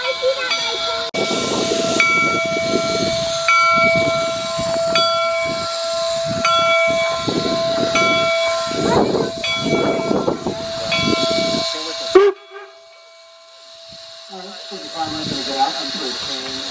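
At the Golden Spike site, a steam locomotive idles close by with a loud, steady hiss of escaping steam over a rumbling chuff. The sound drops suddenly to a quieter hiss near the end.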